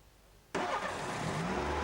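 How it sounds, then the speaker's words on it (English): A car engine cranks and catches abruptly, then settles into a steady, fairly loud running note, set up for an alternator charging test with an ammeter connected at the battery. "start the engine"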